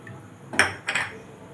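A spoon stirs semolina with cashews and raisins in a pan for mango semolina barfi: three brief scraping clinks against the metal, spaced apart, close by with nothing else heard.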